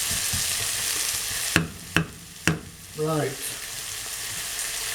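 Bolognese sauce frying in a pan, a loud steady sizzle broken by three sharp utensil knocks against the pan, followed by a brief spoken word.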